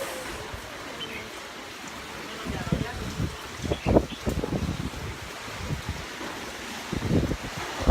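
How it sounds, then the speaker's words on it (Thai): Strong storm wind during Typhoon Pabuk, roaring and buffeting against the microphone in uneven gusts, with louder bursts toward the middle and end, over a constant rushing background. "ลมมันแรงมากสังกะสีปลิวมาเยอะด้วย"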